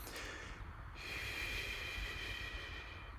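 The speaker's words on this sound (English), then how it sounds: "when I say breathe proactively out of the mouth, it's going to sound something like this." Forceful breath pushed out through the mouth, a steady airy rush that lasts the whole few seconds, close and moderately loud, with no speech.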